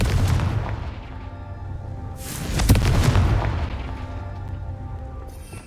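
In the video game Hogwarts Legacy, a Confringo spell sets off a fiery blast: a deep booming explosion bursts out midway and then rumbles away over a low background.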